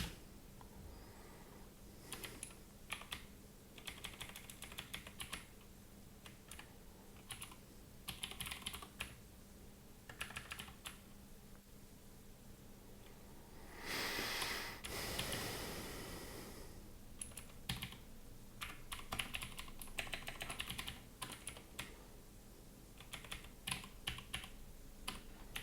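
Keys clatter on a computer keyboard in irregular bursts of quick typing with short pauses, fairly faint against a steady background hum. Midway comes a brief louder rustle.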